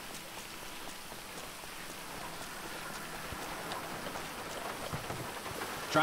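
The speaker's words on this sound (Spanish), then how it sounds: "Está lloviendo, terrible brígido." Rain falls steadily in GTA V, a soft continuous patter of drops with a few sharper ticks, fairly faint and uniform throughout.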